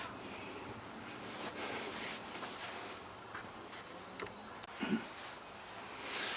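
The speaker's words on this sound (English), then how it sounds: "Give it a little blow off with the airline, make sure everything's clean and no grit anywhere" Compressed air from a workshop airline blows off a VW T4 1.9 TDI vacuum pump during an oil-leak repair, heard as several short, faint, breathy hissing bursts over a quiet background.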